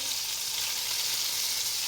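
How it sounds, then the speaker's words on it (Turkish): Peppers and börek frying in a pan over low heat: a steady, close, even sizzle with no talk. "Şöyle böreklerimi de kızartıyorum."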